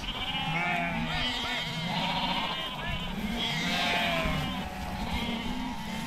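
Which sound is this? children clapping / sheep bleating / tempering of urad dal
sheep bleating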